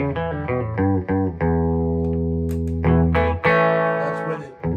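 Electric guitar played through a Fender Super Sonic 22 combo amp with reverb on, loud sustained distorted chords and single notes with a spacious reverb tail, no talking.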